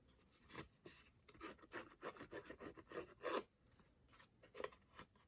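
A paper card edge is lightly scraped with a Tim Holtz distressor tool, giving short, quiet rasping strokes up close in an irregular series, with one stronger scrape in the middle.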